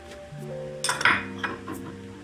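A metal spoon clinks and scrapes against a pan while chili powder, coriander powder and garam masala are stirred into oil for a chicken curry. A few sharp knocks sound close, over a faint tonal background.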